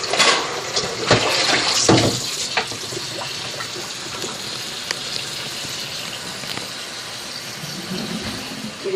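Tap water runs in a steady gush while raw chicken is washed in a kitchen sink, with a few sharper splashes and clatters near the start and a continuous rushing flow throughout.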